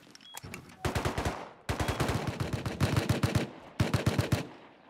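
Rapid automatic gunfire in the video game Rust, loud close bursts of evenly spaced shots separated by brief pauses, each burst rattling for a second or more.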